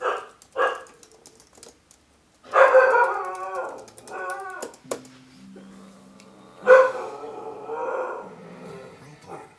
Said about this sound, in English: There was a lot of barking.